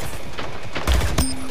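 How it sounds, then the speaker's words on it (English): Gunfire in the video game Splitgate, a short burst of several rapid shots with a sharper bang near the end, loud and close, no talk. "I'm getting shot."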